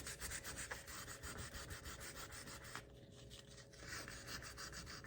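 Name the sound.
sandpaper sanding a cooktop stove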